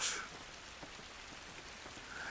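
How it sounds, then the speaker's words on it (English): Rain pours in The Last of Us on an emulated PS3, a soft even hiss of falling drops with faint ticks of droplets, quiet and constant throughout. "the rain is rendered correctly"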